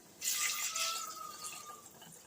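A short pour of water into a pot of country chicken curry with gongura, heard as a brief, close splash and gurgle that lasts about a second and a half in a quiet room.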